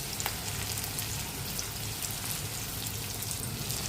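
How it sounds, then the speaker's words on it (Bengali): Dried red chilies tempering in hot oil for a South Indian greens dish, a steady close crackling sizzle that runs on alone throughout with no voices. "শাকের জন্য তেল গরম করে আমি শুকনো লঙ্কা, এই সাউথ ইন্ডিয়ানের ফোড়নটা দিয়ে দেবো।"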